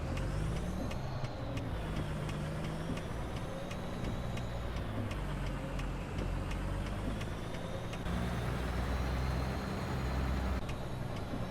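Semi truck moving slowly around a yard in low gear, a loud steady diesel drone with a faint rhythmic ticking of the flashers over it, close and continuous, no speech.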